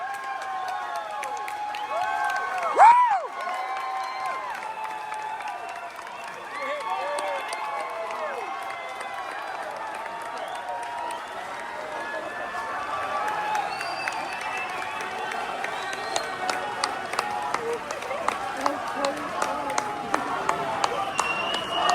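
A concert crowd calls for an encore after a band finishes its set, with sustained cheering, whistles and shouts, then steady rhythmic clapping that builds toward the end.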